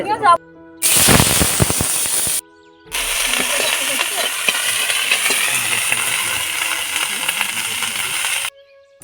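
Cauliflower and capsicum fry in white oil in a pan over a wood-fired clay stove in a village home, giving a loud, dense, steady crackling sizzle broken by brief gaps and a sharp burst of spattering near the start.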